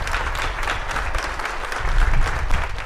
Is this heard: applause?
yes